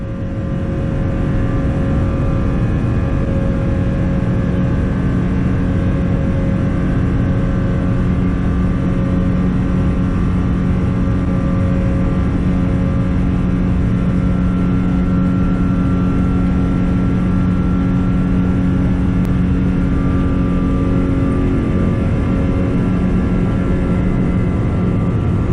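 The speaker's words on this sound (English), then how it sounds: "Let's take a look at our takeoff from DFW." Boeing 777 airliner taking off from DFW, a loud, steady roar of jet engines with a constant low rumble that holds without a break, heard from inside the cabin with no voices.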